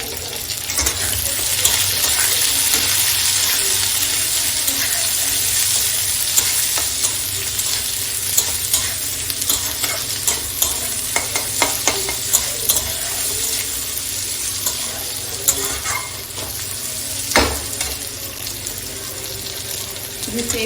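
Chopped onions fry in oil in a pan, a continuous broad sizzle with scraping stirs and clinks running throughout at close range, without talk.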